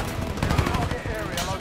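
Dense, continuous gunfire in Call of Duty, close and loud across a short span, with voices mixed into the combat noise.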